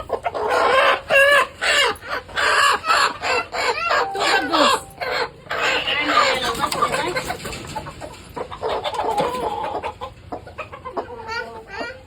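Chickens cluck and squawk busily close by, with a rooster crowing amid the flock's steady chatter.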